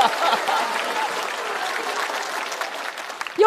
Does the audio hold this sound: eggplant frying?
no